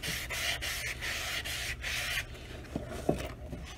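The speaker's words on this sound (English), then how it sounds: "Then what I do, I take a fine sanding block and I just go over what I've done." A fine sanding block rubbed over the leather edges of a cowboy boot during sole restoration, giving soft repeated raspy scrubbing strokes in an even rhythm, close and quiet, followed by a few light knocks.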